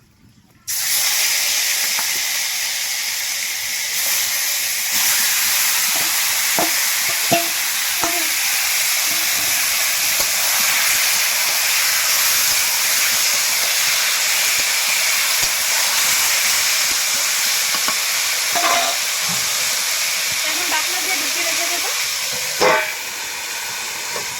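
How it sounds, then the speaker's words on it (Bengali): Desi chicken meat dropped into hot cheap cooking oil in a village-style kadai gives a loud, continuous sizzling hiss that starts abruptly and holds steady, with a few faint clicks and stirs. "তেল গরম হয়ে গেছে এখন তেলে আমি মাংসটা ছেড়ে দেবো"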